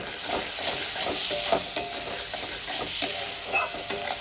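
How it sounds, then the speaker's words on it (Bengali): Spice masala for a katla fish curry fries in oil in a pan, a steady close sizzle with scattered stirring scrapes and small pops throughout, no talking. "মশলা থেকে তেল ছাড়া শুরু হয়ে গেছে"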